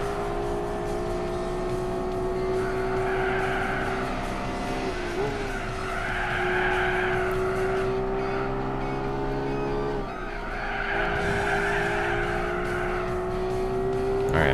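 Race car tires skid and squeal in Gran Turismo 4, a steady engine whine running underneath as the screech swells in repeated surges through the corners, loud and close throughout.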